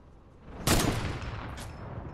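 Gunfire in a video game with snipers: a sharp, loud burst of shots cracks out suddenly, followed by a fading rumble and a second fainter shot, heard alone.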